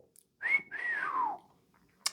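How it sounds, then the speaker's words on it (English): A clumsy attempt at whistling produces a couple of wavering, breathy tones that slide downward, close and alone, ending with a short burst of breath noise. "I can't whistle. Why can't I whistle?"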